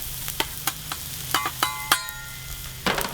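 Onions fry in oil on a Blackstone griddle with a soft, continuous sizzle, broken by sharp scrapes and clinks of a spatula stirring and separating the slices.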